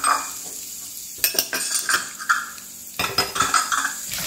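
Cumin seeds, urad dal, chana dal and curry leaves tempering in oil for watermelon rind curry, with a soft steady sizzle broken by bursts of a spoon scraping and stirring against the pan, close and alone.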